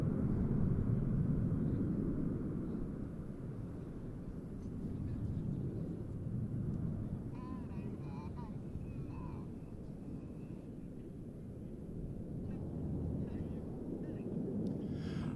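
Red Arrows display jets rumble overhead at the Royal International Air Tattoo 2022, a broad, distant roar swelling and fading beneath a commentator's voice.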